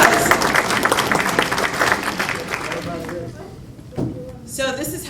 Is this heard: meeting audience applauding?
yes